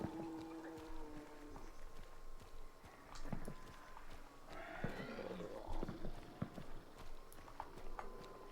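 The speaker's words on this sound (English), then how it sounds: "We heard an angry horsey on the way to Desal." Angry horse in the Hunt: Showdown bayou neighing and whinnying amid clip-clopping hooves, the calls rising mid-clip over a busy, fairly quiet ambient game soundscape with scattered thumps.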